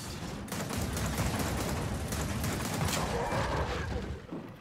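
Shotgun fire in the Gears of War 4 versus mode, heard as a dense, loud, continuous barrage of blasts and battle noise that runs nearly the whole time before easing off at the end.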